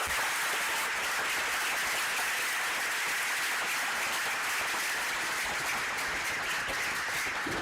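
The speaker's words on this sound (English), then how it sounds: "let's give one more round of applause to Curtis" A seated audience at an opening session of a running camp applauds in a steady, even wash of clapping that holds at a moderate, slightly distant level throughout.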